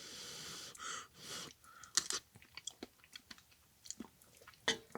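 Someone takes a first taste of homemade potato soup at a mountain campsite, with a few soft slurps and then quiet, close chewing and small mouth clicks, no talk.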